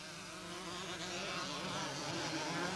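Kawasaki motorcycle racing in a 1983 scramble at Doddiscombsleigh, its engine a faint, buzzing, wavering whine that rises and falls steadily and stays at a distance.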